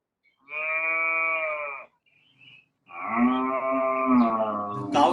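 A cow moos loudly during an online literature lecture: two long, drawn-out lowing calls with a short pause between them, and no one talking over them.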